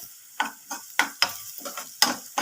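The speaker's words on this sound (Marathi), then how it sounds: "आता याच्यानंतर आपल्याला मीठ टाकायचं आहे याच्यामध्ये आणि चांगलं फ्राय करायचं" Sprouted beans with chilli, turmeric and salt fry in a pan. Quick, rhythmic spatula strokes scrape and tap about three times a second over a soft sizzle, close and fairly loud.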